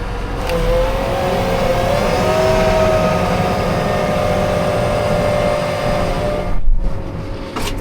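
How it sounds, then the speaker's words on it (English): Seed drill fan cranked up in a wheat field after the peanut harvest, a steady mechanical drone with a rising tonal whine, loud and continuous before a brief dip and bump near the end. "Crank up this fan."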